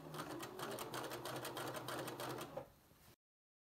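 A sewing machine stitches jersey and fleece in a quick, rapid mechanical rattle of needle strokes lasting about three seconds, close-up, then stopping abruptly.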